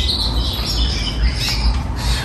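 A breeding female songbird in a nest box gives continuous close, loud squawking and chirping calls, with no talk.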